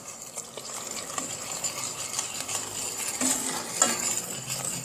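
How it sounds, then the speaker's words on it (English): A spoon stirring teriyaki sauce thickened with cornstarch in a pan, soft repeated scraping and clinking strokes over a faint sizzle, close and fairly quiet, with no talk. "And as usual, keep stirring."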